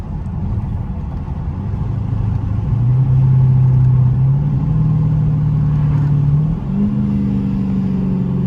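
Dodge Hellcat engine pulling under acceleration while driving, a steady low rumble with a rising tone stepping up through gears, heard from inside the car.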